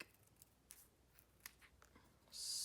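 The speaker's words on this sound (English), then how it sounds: "I'm just gonna snip them in half" Scissors snip through large paper dimensionals for a Valentine card, a few light, quiet cuts spaced apart, close by with no talking.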